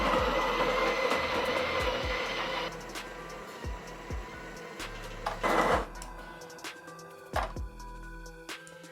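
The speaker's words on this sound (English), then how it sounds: "Then let's grind our coffee." An espresso coffee grinder whirs steadily for a few seconds with a dense mechanical grinding, then stops, leaving scattered clicks and knocks of the machine being handled.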